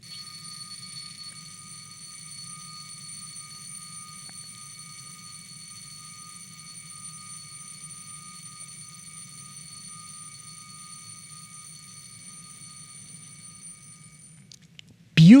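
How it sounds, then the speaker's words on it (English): A Jaeger-LeCoultre Master Control Memovox Timer mechanical wristwatch alarm rings continuously for about fourteen seconds, a thin, steady metallic buzzing close up, ending with a brief louder knock. "We are getting to the moment when the alarm will get off"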